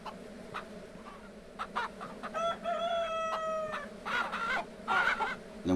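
Chickens in the Ranch Simulator video game, a rooster giving a long crowing call mid-clip amid scattered clucks and short squawks, near and fairly loud over a low farmyard background.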